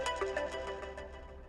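A short electronic phone ringtone plays a quick repeating melody, clear and fairly loud, lasting just over a second.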